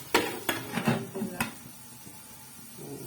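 A metal lid is set on a pot of potato and pea curry, giving a few sharp clanks and rattles in quick succession, followed by quiet stillness.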